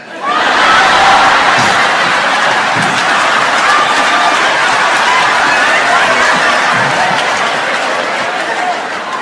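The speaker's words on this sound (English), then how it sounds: "Everybody scream out when you hear your letter." A comedy club audience at a Dave Chappelle stand-up show screams and cheers together, a loud, sustained crowd roar that fills the room and holds steady without a break.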